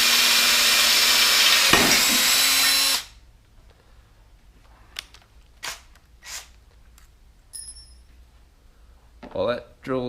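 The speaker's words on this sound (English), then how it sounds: "Trying to eyeball the drill straight." A cordless power drill bores into wood during a utility trailer build, a loud, steady whine for about three seconds that stops abruptly, followed by quiet with a few scattered clicks and handling knocks.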